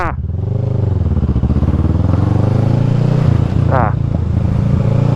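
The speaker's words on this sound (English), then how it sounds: "That was the most whippy wheelie ever" A motorcycle engine revs loud and close in a steady, rising drone while the bike pulls a wheelie, with brief voices over it.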